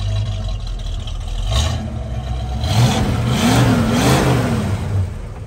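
A 1968 Ford Mustang convertible rumbles at idle, then revs up through its dual exhaust in a couple of rising and falling pulls, close and fairly loud.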